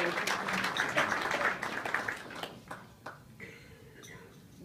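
An audience at a French talk gives a burst of applause, dense clapping that is loud at first and then thins out and trails off into scattered claps and room noise.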